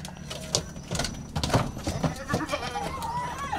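Goat bleating close by in Banyuwangi, a few wavering cries over rustling and soft knocking sounds, with a longer quavering bleat near the end.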